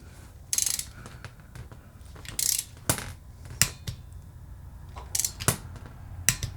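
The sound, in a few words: torque wrench tightening split bolt connector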